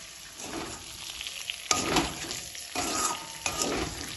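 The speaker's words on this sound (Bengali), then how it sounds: "ভালোভাবে মশলার সাথে ফুলকপিটা কষিয়ে নেব" Cauliflower being sautéed with spices in a pan for a vegetarian Bengali rezala, giving a steady sizzle and frying hiss with intermittent stirring and scraping scrapes, close and moderately loud, with no talking.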